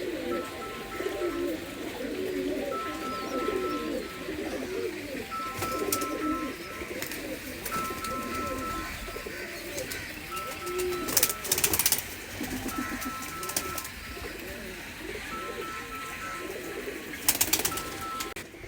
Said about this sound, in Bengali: কত সুন্দর পায়রা।